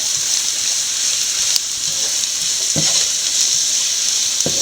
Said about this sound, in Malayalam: അതിനുശേഷം മുളക് പൊടി ഒന്നര ടീസ്പൂൺ നല്ലപോലെ വഴറ്റാം